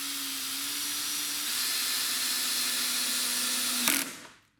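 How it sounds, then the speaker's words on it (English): A power drill drives a screw into a Kwikset door lock, whirring steadily for about four seconds before a brief ratcheting clack and a quick wind-down to silence. "I'm going to put in the bottom screw."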